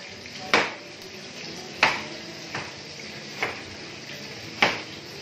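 A knife cuts cabbage into small cubes on a cutting board, five crisp, separate chops spaced about a second apart, close and clear against a quiet background.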